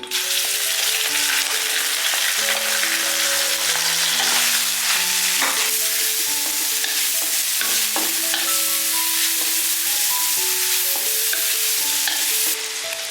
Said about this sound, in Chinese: 这样切好的五花肉碎放进去。